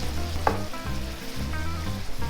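Onion and red chili stir-fry with catfish in a pan, a close, continuous sizzle with a few scraping stirs, and no talking.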